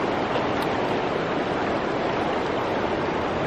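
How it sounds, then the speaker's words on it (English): A river flows steadily in a wild park setting, a dense, even rush of water with no breaks, filling the scene at a constant close-up level with no voices. "I close my eyes and I hear water all around me"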